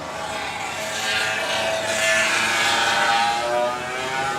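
Rotax racing kart engine at a Rotax Festival race, a sustained high-pitched exhaust drone rising and falling slightly in pitch as the kart passes, loud and steady throughout with no talk.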